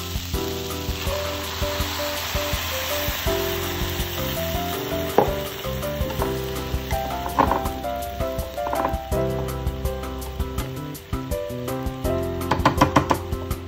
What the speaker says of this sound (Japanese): 玉ねぎが半透明になったら赤ワインを投入。